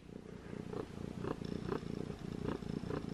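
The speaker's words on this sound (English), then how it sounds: "She's purring so loud." A cat purrs in a steady, rhythmic rumble, each breath cycle clearly audible, close and fairly prominent against a quiet room.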